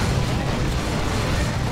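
Heavy weapon fire from a friendly plasma cannon in the Dawn of War II: Retribution strategy game, a dense, continuous low rumbling blast of energy and impacts filling the moment, loud and close, with no voices over it.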